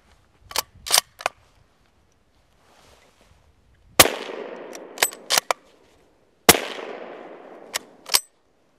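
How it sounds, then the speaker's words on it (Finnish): Sharp rifle shots from a .375 caliber rifle fired outdoors in forest terrain, several loud cracks with echoing tails, spaced irregularly after a few quieter clicks. "ja testataan sitten muutama laukaus, minkälainen tempussa käyttää."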